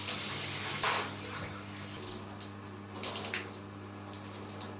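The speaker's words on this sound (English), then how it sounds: "now we've got all the nit stuff rinsed out of the dreadlock. I give it a really good wash" Tap water runs continuously while dreadlocks are rinsed and washed, a steady close splashing with a louder gush at the start and small uneven splashes as the hair is worked under the stream.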